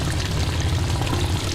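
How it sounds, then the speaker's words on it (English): Hot water gushes steadily from a household faucet, a loud, continuous broadband splashing rush with no other sounds. "just turned on the hot water"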